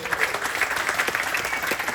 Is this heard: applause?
yes